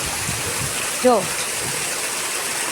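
Rainwater from three streets above pours down into a flooded residential lane, making a steady, close rushing wash that runs the whole time, with one brief spoken word partway through.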